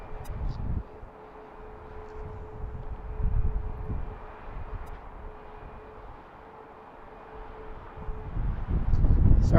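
A passenger airplane arriving at BWI airport on an afternoon, heard as a low, steady engine rumble with wind buffeting the microphone, swelling louder toward the end as the aircraft draws nearer.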